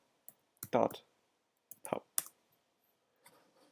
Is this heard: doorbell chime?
no